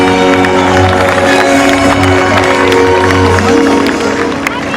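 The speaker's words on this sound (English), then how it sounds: "Let's give a big round of applause." An audience at an orca show at SeaWorld San Diego cheers and applauds loudly and steadily, a dense crowd roar under strong tonal music, with no break through the whole stretch.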